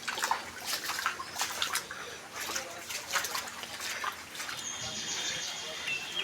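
Someone wades through knee-deep floodwater on a submerged market street, with water sloshing and splashing continuously up close while a person talks.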